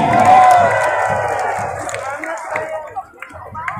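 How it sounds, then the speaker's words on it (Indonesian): Parade spectators and invited guests cheer and clap for a marching contingent at a provincial sports week parade, a loud crowd roar near the start that fades into scattered claps and shouts. "beri tepuk tangan yang meriah Pagar Anem"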